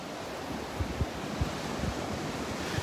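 Surf rolling in at Delnor-Wiggins Pass beach in North Naples, Florida, on a cool morning: a steady wash of waves with soft low thumps of breaking water and some wind rumble, no voices.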